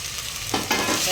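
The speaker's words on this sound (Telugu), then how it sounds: "అల్లం వెల్లుల్లి పేస్ట్ మరీ ఫ్రై అవ్వలేదు లైట్గా ఫ్రై అయింది" Ginger garlic paste frying lightly in a pan, a soft steady sizzle that swells at about half a second and again shortly after, with stirring, close by and with no talk.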